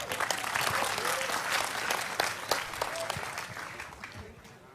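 An audience breaks into loud, sustained applause with many overlapping claps, heard at a live Cak Nun and Kiai Kanjeng gathering in Blora. The applause slowly fades toward the end.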